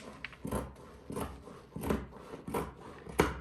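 Scissors cutting fabric for a tracksuit top while leaving a seam allowance, about five evenly spaced rasping snips, each a short crunchy cut, close and fairly quiet.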